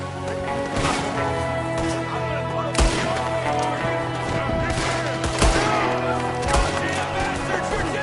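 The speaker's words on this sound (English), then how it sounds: "There's another one shooting from the window." Rapid gunfire rattles through a Red Dead Redemption 2 shootout in dense repeated bursts, with sharp louder shots standing out over a steady droning background and voices speaking now and then.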